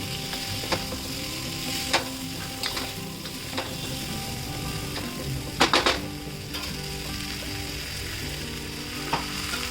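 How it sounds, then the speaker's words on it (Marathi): Drumstick pods sizzle and fry steadily in a hot pan for a drumstick curry, with a few sharp clinks of a spoon or spatula stirring against the metal; close, continuous and without talk. "शेंगा चांगल्या स्वच्छ धुवून घेतल्या त्या टाकून घ्यायच्या. त्याला चांगलं भाजून घ्यायचं."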